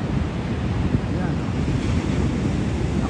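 Ocean waves at Half Moon Bay wash in as a steady, loud, unbroken surf roar, with wind buffeting the microphone throughout.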